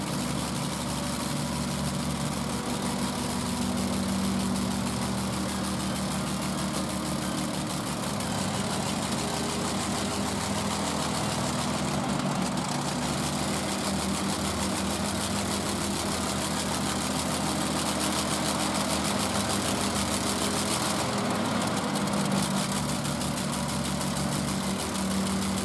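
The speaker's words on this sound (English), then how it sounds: "At the Anson Engine Museum, when the mechanic steps up to the Rolls-Royce Griffin" A Rolls-Royce Griffin Mk58 vintage aero engine runs at a museum with a loud, steady, dense roar and throb that holds for the whole stretch, close by and with no voices over it.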